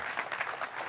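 Family science show audience claps for volunteers in a short, even patter of many hands, moderately loud and without voices.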